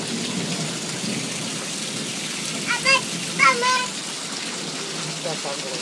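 Rain falls steadily on an outdoor surface in a dense, even patter, while a few brief voices, including a child's, rise over it in the middle.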